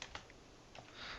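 A handful of quick, faint keystrokes on a computer keyboard as a terminal command is typed, with a few soft clicks in a brief burst.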